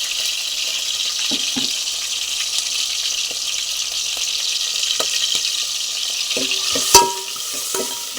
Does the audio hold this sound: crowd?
no